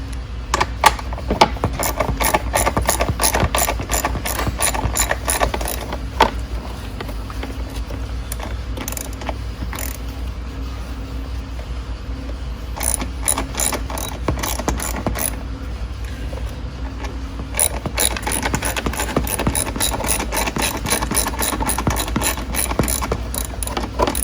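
Ratchet wrench loosening a 10 mm bolt under the wheel well of a Venom 1300w electric ATV, with rapid repeated clicking in bursts over a low background hum, close by.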